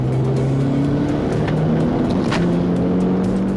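An all-wheel-drive turbocharged Audi TT accelerating hard under boost on a road, engine loud and close, its pull broken by brief stutters where traction control cuts power.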